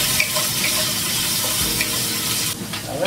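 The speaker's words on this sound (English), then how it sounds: "So I pour some water in the masala," Water poured into an onion and turmeric masala in a non-stick pan while cooking curry, giving a steady loud sizzle and hiss that continues without pause.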